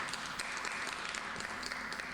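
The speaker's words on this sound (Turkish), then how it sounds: "Bir alkış istiyorum onlara." Soft, distant applause from a concert audience, a thin continuous patter of many hands clapping at low volume throughout.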